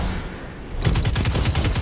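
Rapid automatic weapon fire in Destiny 2 PvP play, a steady stream of evenly spaced shots starting abruptly after a brief lull and continuing loud and close to the end.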